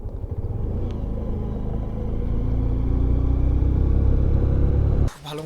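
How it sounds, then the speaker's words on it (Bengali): A Honda SP125 motorcycle loaded with heavy luggage labours up a steep mountain road, its engine a loud, steady low rumble up close that shifts abruptly near the end. "বাইকে আমাদের এবারে মনে হচ্ছে একটু লাগেজটা বেশি হয়েছে, তো বাইকের টানতে কষ্ট হচ্ছে খুব"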